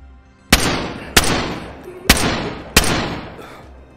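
Four loud, sharp rifle shots of .308 calibre in the DayZ video game, spaced about a second apart, each with a long echoing decay tail, heard close and without talk.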